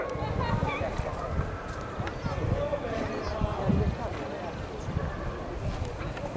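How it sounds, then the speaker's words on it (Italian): Horses galloping across sand during a pole-bending and barrel race on the beach, hoofbeats distant and low under continuous commentator speech and crowd noise. "il galoppo si sente ad arrivare da lontano"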